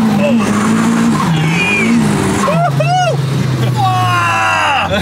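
A rear-wheel-drive Honda Civic with a KA engine runs on a dyno with a loud, sustained engine roar that rises and falls in pitch, high chirping whines on top and voices talking over it.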